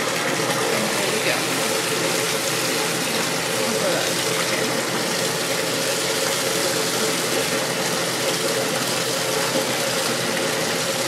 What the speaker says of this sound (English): I hear from everyone you're supposed to crumble it underneath the water.